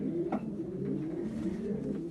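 Breeding pigeons in a free-range loft coo steadily and close by, a continuous low rolling murmur from several birds with no voices present.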